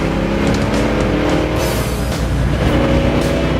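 Loud, steady engine roar of a 1970 Ford Mustang Boss 302 heard from inside during a ride, with a brief dip and swell in the middle as the engine note shifts.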